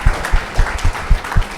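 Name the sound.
audience clapping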